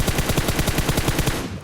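Automatic gunfire in the mobile shooter PUBG Mobile: a rapid, loud burst of evenly spaced shots rattles for well over a second before stopping abruptly.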